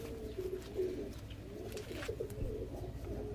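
Pigeons in a fancy loft, Indian Teddy and Rajasthani breeds, coo softly in low, rolling bursts throughout, steady and close with no talking over them.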